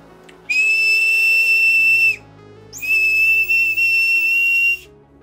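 A homemade survival whistle with a ball inside, built from everyday scrap materials, gives two long, loud, piercing blasts with a trilling warble. The blasts are close and separated by a brief pause, with no voices.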